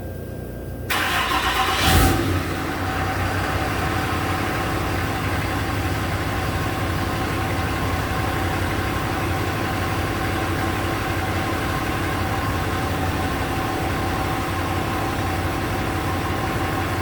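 A 2008 Ram 3500 pickup with a transmission that won't engage any gear cranks briefly, fires up and settles into a steady, even idle that drones on for a long stretch, close and alone.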